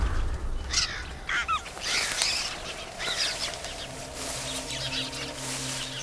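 A flock of birds in a video game calls in repeated honking, duck-like bursts against a soft ambient backdrop, moderately close and steady throughout.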